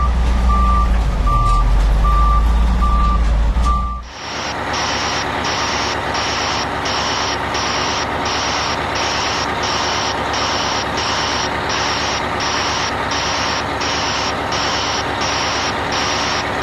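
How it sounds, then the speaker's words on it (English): A quiet pure-tone beeping fades out, then a loud broadband white-noise truck reversing alarm pulses in a steady rhythm, a hissing whoosh repeating roughly every second over engine rumble. "By using broadband sound known as white sound, the BBS Tech back alarm is easier on the ear"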